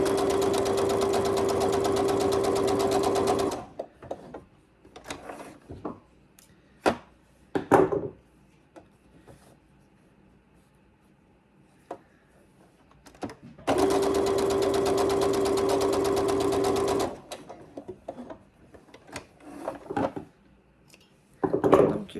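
A domestic sewing machine stitches quilt strips in two long, steady whirring runs, loud and close, separated by a quieter stretch of scattered clicks, taps and handling noises.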